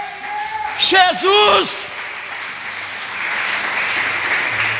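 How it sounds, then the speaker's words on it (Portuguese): A church congregation at a Brazilian worship congress cheers and applauds, with a loud shouted voice near the start giving way to steady clapping and crowd noise that carries on to the end. "Aplauda seu Deus."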